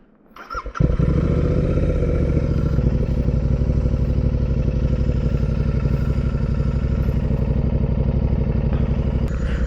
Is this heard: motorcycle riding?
yes